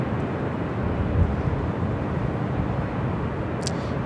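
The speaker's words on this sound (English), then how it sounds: "Next, heavy takeoff on the south side, followed by United Airlines Flight 1170 heading to Honolulu." A heavy jet airliner taking off from the south side at LAX, a loud, sustained broadband engine roar with a brief swell early on and no talk.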